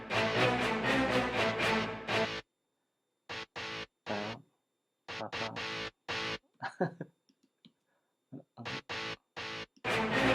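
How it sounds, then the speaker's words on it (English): Bursts of heavily distorted electric guitar, chopped into short stabs and phrases separated by abrupt silences. "Distortion, guitar distortion."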